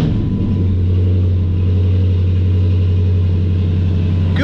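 A 2006 Chrysler 300C SRT-8 with a 6.1 Hemi V8 running close by at a steady, deep, loud idle rumble, with no clear start or rev rise and no talk.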